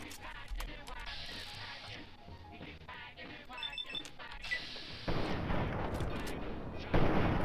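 Gunfire in the video game Fallout 3 comes as scattered sharp shots and clanking bursts of combat effects, moderately loud and mixed with game noise, with a denser rush of fire building toward the end.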